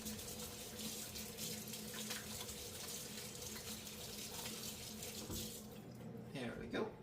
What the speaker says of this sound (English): I need to wash my little hands for just a second